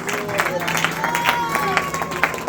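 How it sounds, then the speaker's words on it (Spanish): A church congregation claps together in steady applause, dense and continuous throughout, with crowd murmur and a raised voice carrying over the clapping. "Hoy den esa ofrenda de palmas a Jesús."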